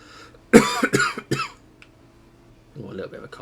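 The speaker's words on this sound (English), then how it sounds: "Oh, a little bit of a cough there." A person coughs several times in quick succession while driving in a Formula 2 racing game, loud and close, followed by a short burst of softer sound.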